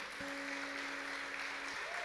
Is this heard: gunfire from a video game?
no